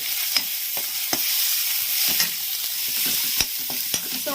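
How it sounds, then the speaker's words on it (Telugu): Cumin powder and garam masala are stirred into onions frying in oil for a fish egg fry, a continuous close sizzle broken by repeated scraping and tapping of a spoon against the pan. "ఒక టేబుల్ స్పూన్ గరం మసాలా ఇవి వేసిన తర్వాత ఒకసారి మిక్స్ చేసుకోవాలి"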